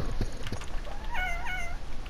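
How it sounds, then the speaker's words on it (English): A pet cat meows twice in quick succession, rising and falling tones, fairly close and clear over light background noise. "My cat!"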